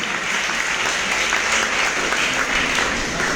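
Seminar audience applauds to welcome a speaker to the stage, a dense, sustained wash of many hands clapping at moderate distance, steady from start to finish.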